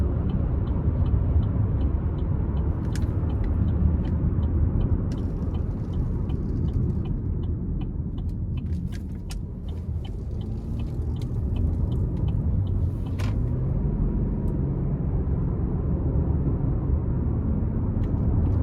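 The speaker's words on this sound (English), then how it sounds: "starting the test drive in this Acadia here, the V6 has a ton of pull." Interior of a 2019 GMC Acadia SLE with a V6 and six-speed automatic on a test drive, a steady low engine and road rumble with constant tyre and wind hum and no speech.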